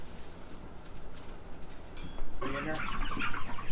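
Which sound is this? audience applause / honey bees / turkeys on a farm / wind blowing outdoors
turkeys on a farm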